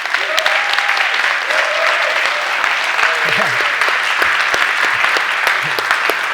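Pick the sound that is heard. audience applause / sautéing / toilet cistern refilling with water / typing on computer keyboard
audience applause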